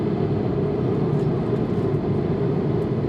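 Steady airplane cabin noise in flight makes a constant, even roar of engine and airflow, dense in the low and mid range, with no voices and no change across the stretch.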